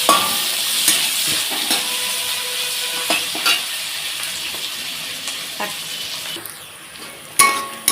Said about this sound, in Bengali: পেঁয়াজটা এখানে লাল করে ভেজে নিচ্ছি দেখো